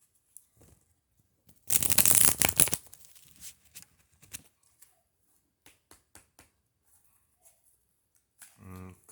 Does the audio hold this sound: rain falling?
no